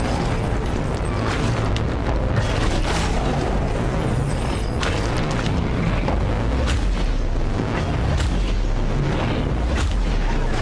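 Gunfire in the video game Sundered, a dense, loud, continuous barrage of rapid shots and booming impacts with no pauses.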